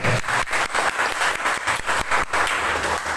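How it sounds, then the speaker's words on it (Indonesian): A school audience of vocational high school students claps together at an orientation session. The applause is loud and close, with a pulsing beat where the crowd falls into rhythmic unison. "Tepuk tangan buat kita semua."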